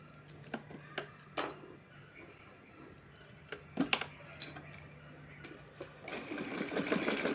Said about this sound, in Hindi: तो चलिए इसको सिल के दिखाती हूँ आपको।